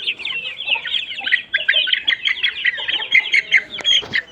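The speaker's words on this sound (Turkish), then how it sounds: "Bu da bir diğer oroz olanı" A rooster clucking and chattering up close on a farm, a rapid string of short, bright cackles with brief pauses and a few sharper squawks near the end.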